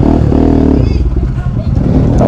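Motorcycle on a rainy mountain ride being brought to a stop and parked, engine idling loud and close with a brief rev and clatter, someone talking over it.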